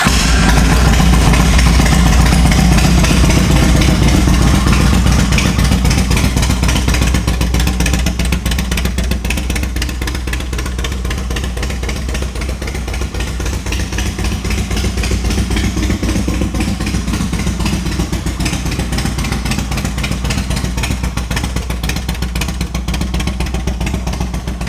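A 2007 Yamaha Road Star 1700 motorcycle idles close by, its engine running as a loud, steady, throbbing rumble with a slight mechanical clatter, alone and unbroken throughout.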